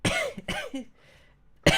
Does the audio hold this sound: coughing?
yes